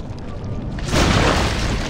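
A bomb explosion in the Lego Pirates of the Caribbean video game: a loud, broad booming burst erupts about halfway through and rumbles on to the end over earlier game noise.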